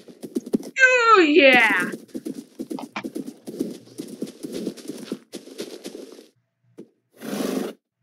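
Horse hooves clip-clop in the video game Minecraft, a rapid run of close, dry taps lasting several seconds, with excited voices and a whinny-like cry over the start.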